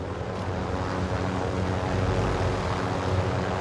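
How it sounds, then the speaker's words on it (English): In the video game Call of Duty: Modern Warfare, a helicopter flies overhead with a loud, steady, continuous engine roar and rotor rumble that fills the whole moment. "Oh, helicopter."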